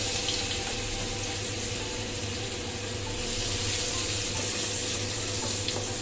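Chopped garlic dropped into hot oil for egg chicken fried rice gives a steady, dense hiss and crackle of frying that runs evenly throughout, close and moderately loud, with no talking.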